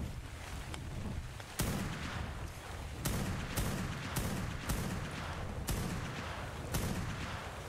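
Rifle shots from a fabricated rifle in the ARK video game crack out one at a time at irregular intervals, about eight sharp reports over steady background noise.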